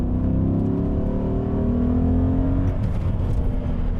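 A Chrysler 300 SRT with 155,000 miles accelerates hard in track mode, its engine note climbing steadily and loudly through a long rising pull before a shift near the end, heard from inside with no talk.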